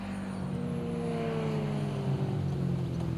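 Single-cylinder motorcycles pass by at speed, a steady droning engine note with a slight falling pitch as they go, loud and continuous for the whole stretch with no talk.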